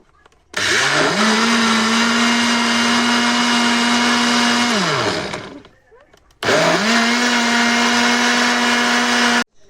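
A kitchen blender whirs loudly and steadily for about five seconds, winding down, then starts again for a second burst, mixing economical cupcake batter with carbonated soda.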